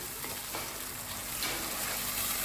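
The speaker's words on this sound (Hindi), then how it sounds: "इसको हम थोड़ी देर भून लेंगे अच्छी तरह" Continuous crackling sizzle of garlic ginger paste frying in a hot pan, with faint stirring scrapes, steady and close, no voices.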